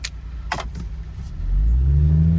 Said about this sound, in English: So you kind of get a good feel of what this car sounds like and what it does.